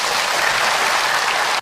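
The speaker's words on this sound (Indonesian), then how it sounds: "Tepuk tangan buat Ibu Titi." A studio audience at a religious talk show claps loudly in a short, dense burst that lasts under two seconds and then stops abruptly.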